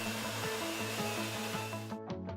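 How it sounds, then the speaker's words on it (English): A vacuum machine draws air out of plaster-like investment compound in a flask for a custom ring mold, giving a loud, steady whirring hum with a pulsing, rattling texture until it cuts off abruptly. "A vacuum machine is used to remove all the air from the investment."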